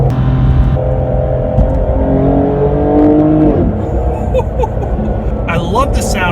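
A BMW M4 GTS engine revs close by, rising through the gears with quick shifts and a drop in pitch, then settling into a lower rumble while a voice speaks over it.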